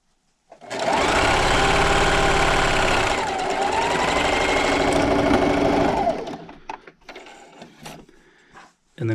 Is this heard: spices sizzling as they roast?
no